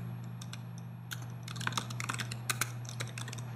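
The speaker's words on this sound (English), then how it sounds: "type in the security code" Keys clatter on a computer keyboard as a security code is entered, a run of irregular light clicks set over a steady low electrical hum.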